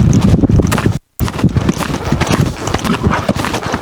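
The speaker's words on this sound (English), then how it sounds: "she lopes on the wrong lead, which she has a tendency to do" A mare loping on the ground, her hooves drumming in a steady rolling three-beat rhythm, loud and close, with wind buffeting the microphone and a brief dropout partway through.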